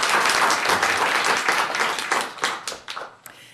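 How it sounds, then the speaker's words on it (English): An audience at a candidate forum applauds, a dense burst of many hands clapping indoors that holds steady and then tapers away within a few seconds. "Let us thank both candidates with our applause."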